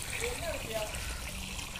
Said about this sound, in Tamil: நம்ம பாண்டோட பாதி அளவுக்கு வந்து தண்ணி வந்து ஃபில் ஆகிடுச்சு